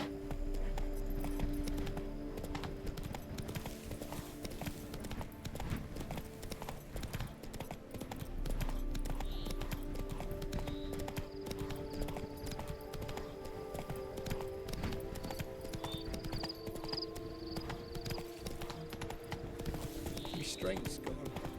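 Horse hooves clip-clopping at a steady riding pace in the video game The Witcher 3: Blood and Wine, continuous over a long stretch beneath game music, with occasional snorts and spoken dialogue.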